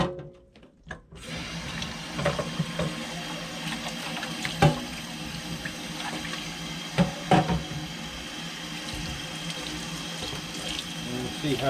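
Water runs from a tap into a sink and drains through a strainer while dyed fly-tying materials are rinsed, a steady close splashing flow with occasional clunks and sloshes.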